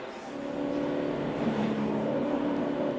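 A NASCAR Sprint Cup race car at the 2008 O'Reilly Auto Parts 500 comes onto pit road, its engine a steady loud roar that holds at constant revs with a faint rising whine, no talking.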